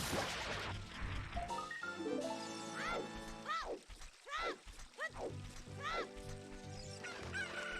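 Chicken clucks and a cock-a-doodle-doo crow from a video game, several rising calls over a busy game soundtrack with crashes and whacks mixed in.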